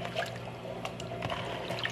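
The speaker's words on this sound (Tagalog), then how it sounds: "Hugasan ko siya ng cold water." Rice being rinsed with cold water, a soft continuous trickle and slosh of liquid, faint and close, with no talk.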